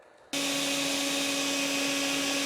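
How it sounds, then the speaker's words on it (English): A vacuum cleaner switches on abruptly and runs at a steady high-pitched whine, blowing air through a Honda Civic 1.4 mass air flow sensor, loud and close with no talking. "now I'm gonna do the same thing with a vacuum cleaner"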